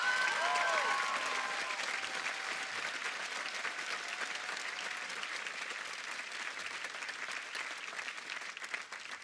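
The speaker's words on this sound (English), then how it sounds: "Let's give ourselves a round of applause." Graduates and guests at a school commencement clap in a long, steady wash of applause, even and moderately distant, with a brief voice at the very start before the clapping carries on alone.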